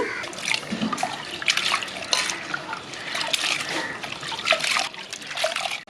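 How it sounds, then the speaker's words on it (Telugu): Continuous sloshing and trickling water with small splashes as lentils are swished and rinsed by hand close by. "ఒకటికి రెండు సార్లు శుభ్రంగా నీట్గా కడిగేసుకుందాము"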